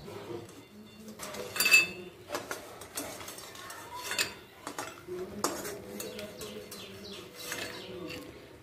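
Fried lentil dumplings (bori) lifted out of a pan while cooking shukto, with scattered clinks and scrapes of a utensil against the cookware over a soft background hiss; occasional sharp metallic taps stand out close by.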